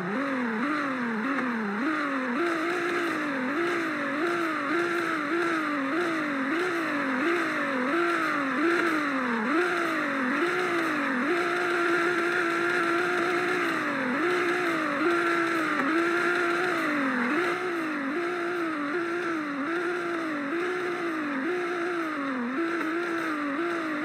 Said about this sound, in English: So I'm gonna rev it right now.